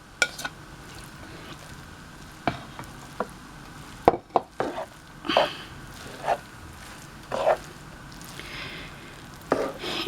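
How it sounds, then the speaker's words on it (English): Rabbit fried rice is stirred in a frying pan, with scattered scrapes and clacks of a utensil against the pan at an uneven pace over quiet background hiss. "I'm mixing it in the frying pan."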